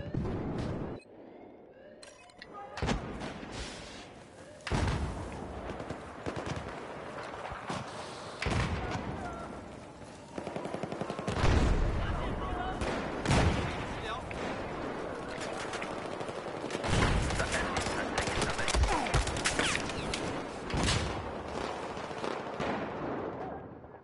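Battlefield 4 crossfire: many guns fire from several directions, with irregular bursts and single shots, some near and loud, others farther off, plus a few heavy thuds over about twenty seconds.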